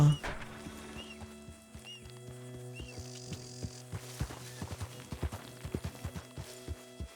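Horse hooves in Red Dead Redemption 2, a short run of light clip-clop steps that starts faint and grows into a quicker, more distinct patter toward the end, with soft game ambience behind.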